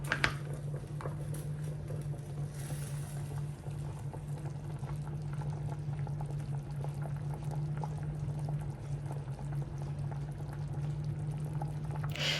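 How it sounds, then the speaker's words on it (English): Spinach soup simmering in a pot on medium heat, a steady bubbling and gentle liquid churn that carries on evenly throughout with no talking. "allow the soup to cook on a medium heat for about 15 minutes"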